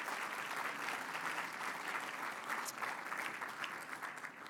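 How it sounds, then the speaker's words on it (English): Audience applause for honorees at the 2016 Spirit of ABNY Awards, a steady, dense wash of many hands clapping throughout, fairly distant and even in loudness. "So I think we should give them a nice round of applause."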